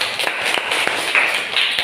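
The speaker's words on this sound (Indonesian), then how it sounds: "Tepuk tangan." A group of students applauding in a classroom, with a brisk, uneven patter of hand claps at moderate volume and a few sharper individual claps standing out.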